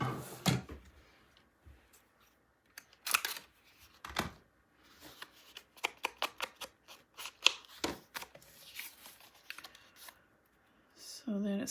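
Paper craft panel for a 9 x 9 forest-themed mini album being trimmed down to size, with a string of crisp, close snips and cuts in quick bursts separated by short quiet gaps, no talking.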